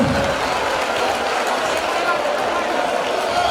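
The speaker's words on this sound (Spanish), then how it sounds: "Ese aplauso para los Piquis" Audience applause after a school carnival parade performance, a steady wash of crowd clapping at moderate level for the whole stretch, with voices mixed in.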